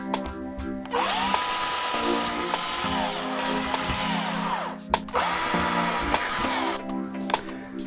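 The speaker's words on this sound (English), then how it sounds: "it's time to drill." A power drill boring mounting holes into a drywall wall for acoustic panel impaler mounts, loud whining bursts that start, bog and stop, with short pauses between holes and no talking.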